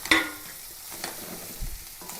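Clams fry in a pan with a soft sizzle, broken by a sharp clatter at the start and a few quieter scraping stirs, heard close and without speech.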